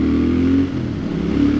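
A 2021 Triumph Thruxton RS motorcycle engine drones steadily while riding, a loud, close, low rumble that eases slightly partway through.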